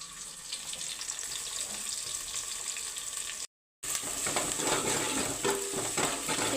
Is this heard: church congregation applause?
no